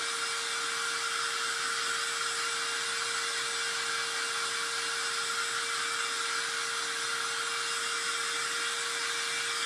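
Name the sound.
hair dryer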